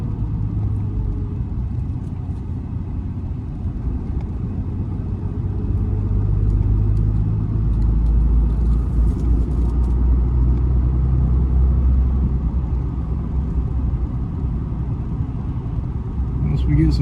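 Dodge diesel pickup truck on the road, heard from inside the cab as a deep, steady engine rumble with occasional low surges, with no clear talk over it.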